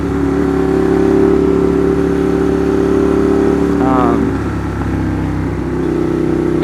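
A 2015 Ducati Monster 821 engine with an aftermarket exhaust idles loudly and close, with a brief rev blip partway through before settling back to a steady throaty rumble.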